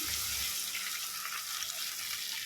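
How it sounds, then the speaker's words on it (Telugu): Water pouring into a hot pan while making semiya vegetable upma, a steady loud hiss and splash across the whole stretch, with a low burble at the start. "ఉడకడానికి వాటర్ వేసేయాలి మనము"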